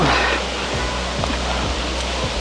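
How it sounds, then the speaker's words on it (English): Broad, steady rush of a large waterfall in South Wales, a constant wash of falling water with faint low thuds near the camera. "let's go behind the waterfall first then, is it?"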